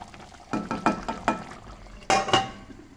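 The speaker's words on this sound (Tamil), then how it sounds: "பாருங்கள் நல்லா கொதிச்சுட்ருக்கு." Chicken masala gravy bubbling in a pot, a series of soft irregular pops and plops with a couple of louder bursts near the end, close and moderately quiet.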